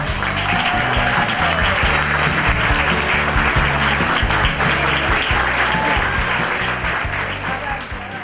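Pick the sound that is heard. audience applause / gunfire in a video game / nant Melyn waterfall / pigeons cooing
audience applause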